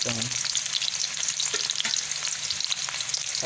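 Thickly cut onions frying in a pan toward light brown, a dense, continuous close sizzle with faint stirring movements throughout.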